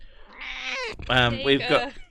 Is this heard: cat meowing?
yes